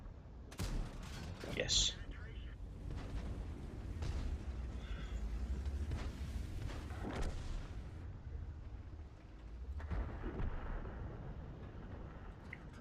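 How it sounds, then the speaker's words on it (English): Tank gunfire in World of Tanks, a T-34 crossfire scene, with several sharp booming shots and crackling bursts early on, followed by rumbling and further impacts; a voice briefly speaks amid the battle noise. "Some crossfire coming in from T-34 Mod 1 over there."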